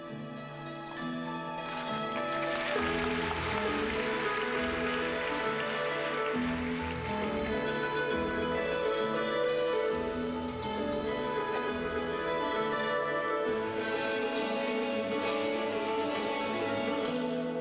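Orchestral music from a film score plays steadily through an arena during a free skate program at a European figure skating championship, sustained strings and harmonies at moderate volume.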